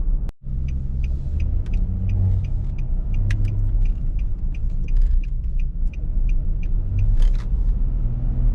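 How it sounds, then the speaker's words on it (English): A 2007 Nissan Xterra with a 4.0-litre V6 drives along, its engine a steady, loud low rumble from inside the cabin, with faint rattles and ticks scattered over the drone. "since it's such a big engine, 4-liter V6, it actually does sound pretty good too"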